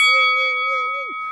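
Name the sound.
notification bell ding sound effect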